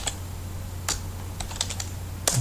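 Someone types in MS Word on a computer keyboard, producing a few scattered, close key clicks with short pauses between them and a final sharper tap, over a faint steady hum.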